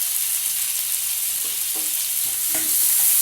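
Onions and tomatoes sauté in a pan under a constant bright sizzle, broken by occasional utensil scrapes and stirring clicks, with no talking.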